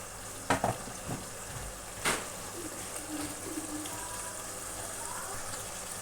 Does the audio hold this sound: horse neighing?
no